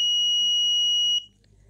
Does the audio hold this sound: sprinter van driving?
no